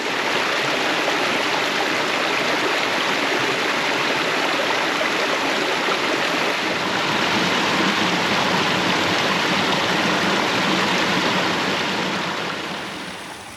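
A creek flows steadily along a hiking trail in the Payson, Arizona area, a loud, continuous close rush of water that stays even throughout and fades slightly at the very end.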